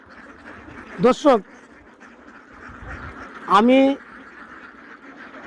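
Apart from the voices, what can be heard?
ducks quacking at a duck farm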